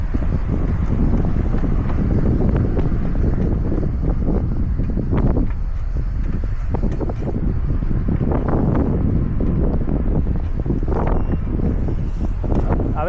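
Heavy wind buffeting a microphone, a steady loud rumble with gusty bursts throughout, no voices, while bikepacking near a bridge.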